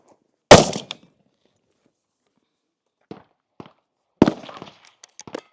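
Gunshots at an outdoor shooting range: one loud sharp report, then a few faint clicks and taps, and a second loud crack followed by scattered small knocks, with quiet gaps between.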